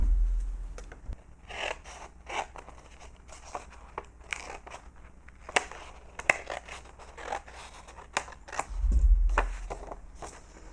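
Scissors cut through folded purple paper close by, giving a series of crisp snips and crunchy scrapes with a rustle of paper handling, and no voice.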